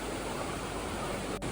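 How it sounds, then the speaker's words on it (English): Waterfall at Ayder plateau in the Turkish mountains, a steady, dense roar of falling water that fills the scene without a break, heard alone with no voices. "This is the waterfall"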